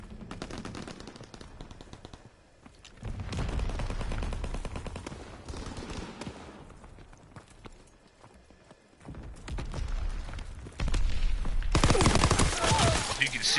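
A gun fires in a World War II video game, with rapid bursts of shots rattling back and forth at varying loudness across the stretch.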